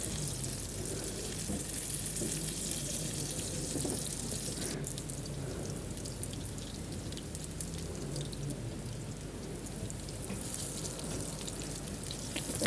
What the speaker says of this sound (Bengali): আমি একটু পেঁয়াজও ভেজে নিতেছি মাছের উপর দেওয়ার জন্য